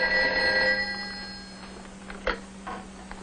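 A telephone bell rings in a 1960s setting, one clear burst at the start that stops abruptly, followed by quieter handling noise and a faint click or two.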